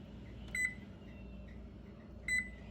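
Two short electronic beeps sound from an oven control panel as the cook time is set, clear above a low kitchen hum.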